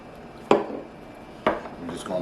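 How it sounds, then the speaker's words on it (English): Vanilla is mixed into batter in a bowl, heard as two sharp utensil knocks against the bowl followed by brief scraping, close and fairly loud in a quiet kitchen. "just gonna mix that up"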